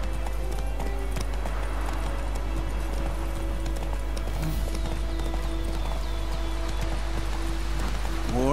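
A horse in The Witcher 3: Wild Hunt gallops with a rapid, steady clip-clop of hooves, fairly close, over low game ambience, with faint speech at times.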